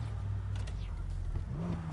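A 3.6-litre flat-six car engine revs in the NFS Heat racing game, a steady mid-pitched hum whose pitch climbs near the end, held at a moderate level throughout.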